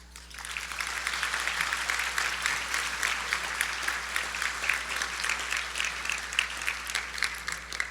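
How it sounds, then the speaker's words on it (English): Sustained audience applause fills a banquet hall at an annual Martin Luther King Jr. scholarship awards ceremony, a steady dense wash of many hands clapping for nearly eight seconds with no break. "Please give a round of applause to Miss Mary Costello"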